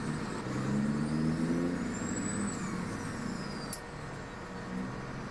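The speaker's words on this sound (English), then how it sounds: "Gets into this truck, it keeps shifting" Truck engine in Farming Simulator 2017, droning steadily with rising and falling tones as it works up through gears, a continuous mid-level hum with a brief air-brake hiss near the end.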